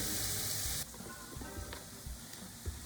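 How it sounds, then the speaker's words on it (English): Sliced onions sauté in a pan over medium-high heat, a faint, soft sizzle with light crackles after a brief louder hiss at the start. "the onions already look like they're getting sauteed, they're getting cooked, they're getting soft"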